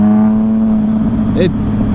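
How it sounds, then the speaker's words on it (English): A Triumph Street Triple 675R motorcycle fitted with aftermarket SBK dual exhaust pipes drones loudly and steadily at a held engine note, with a brief rising blip near the end and a person talking over it. "the exhaust is a bit loud. It's got the aftermarket SBK dual out pipes."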